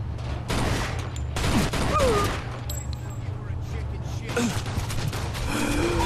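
Rapid bursts of gunfire from modified guns in the Mafia 2 video game, several volleys cracking close and loud amid in-game mechanical clatter, with a player's voice and game chatter mixed in.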